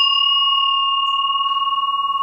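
An antique Hindu house-shrine bell rings after a strike, sustaining a clear, bright multi-tone resonance that decays slowly with a gentle beating wobble, loud and close with no voices.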